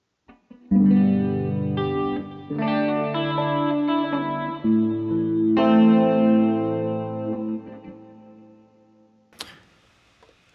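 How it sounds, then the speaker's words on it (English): Electric guitar played through its magnetic pickups and an effects unit with chorus and slight distortion, sustained chords ringing and changing every couple of seconds, clear and close, then fading to small clicks at the end. "the second voice are the magnetic pickups, and that gives me a nice electric guitar sound."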